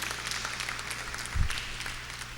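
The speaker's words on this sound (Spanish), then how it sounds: "le dan un fuerte aplauso a Dios por su santo evangelio" A congregation applauding during a Spanish-language church service, a continuous patter of clapping with a low thump midway through.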